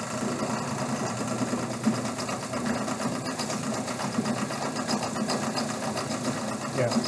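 A compound electric motor runs under a heavy load on a test bench, a steady buzzing, rattling drone throughout, with a voice talking over it.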